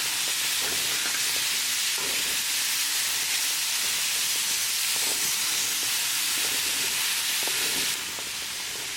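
Chicken thighs and frozen vegetables stir-frying in a kadai over medium gas, a loud, dense, continuous hiss of sizzling oil and steam with faint stirring scrapes underneath, close up, with the hiss softening slightly at the end.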